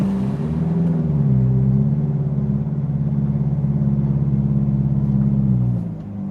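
Ferrari 488 GTB engine running while driving, a steady low rumble with a throbbing mid-range drone that rises slightly and holds for several seconds before easing off near the end, heard from inside the car.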